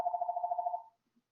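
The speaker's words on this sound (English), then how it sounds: "Okay, just never mind the phone." A telephone tone sounds as a single steady pitch with a slight pulsing flutter for just under a second, then cuts off into near silence, faint and alone.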